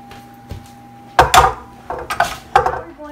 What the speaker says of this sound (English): So now we're going to mix it.